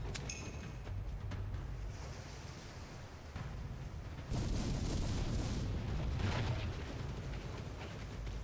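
Ship cannons boom in a naval battle in Port Royale 4, a run of heavy rumbling blasts with crashing surf-like noise, growing louder and denser toward the end, with no talk over them.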